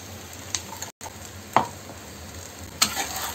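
Roasted peanut powder being stirred into sabudana khichdi in a pan, soft scraping spoon strokes with a few sharper clicks over a faint sizzle.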